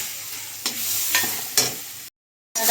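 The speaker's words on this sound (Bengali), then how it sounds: "এরকম ভালো করে কষিয়ে নিচ্ছি" A spice paste with cabbage and tomato is sautéed in a pan, giving a steady sizzle broken by several scraping stirs, then a brief silent gap before the frying resumes, with no talking.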